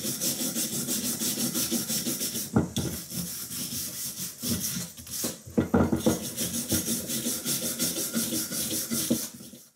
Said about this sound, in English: we're going to take all the loose rust, any other dirt off this pick head axe.